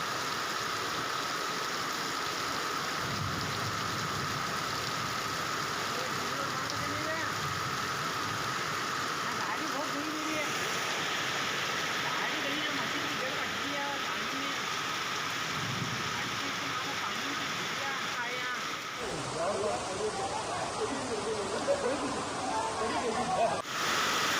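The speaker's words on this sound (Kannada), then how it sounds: "ಸುರಿದಂತಹ ಧಾರಾಕಾರ ಮಳೆಗೆ ಅಲ್ಲಿನ ಜನ ಪರದಾಡುವಂತಹ ಸ್ಥಿತಿಗೆ ತಲುಪಿದ್ದಾರೆ" Heavy torrential rain pours down in Belagavi, a dense continuous roar of water that holds steady throughout, shifting briefly near the end with a sharper spattering texture.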